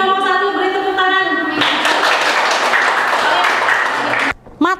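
A classroom of students applauds a presenting group. After a held tone, a burst of many hands clapping lasts about three seconds, then stops abruptly.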